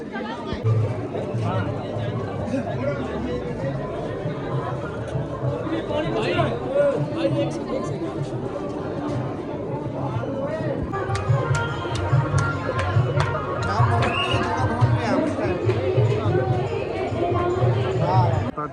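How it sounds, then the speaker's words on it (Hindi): Dense crowd bustle of pilgrims at the Vaishno Devi temple during Navratri, a steady hubbub of many overlapping voices close by, with a person talking over it throughout. "और रश भी बहुत ज़्यादा है"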